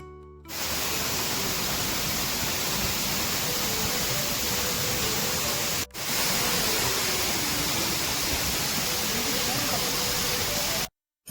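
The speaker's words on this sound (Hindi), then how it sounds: "तो चलिए दोस्तों, हम लोग झरने का आनंद लेते हैं" A forest waterfall near Almora roars as steady, loud broadband rushing water, continuous and close, with only a brief dip partway through and no voices.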